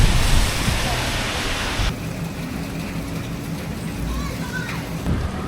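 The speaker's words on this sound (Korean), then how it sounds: "이건 폭우야, 폭우" Heavy rain pours down on an old brick-lined street in Taichung, Taiwan, a dense, steady hiss of water that is loudest at first and then settles into a constant roar.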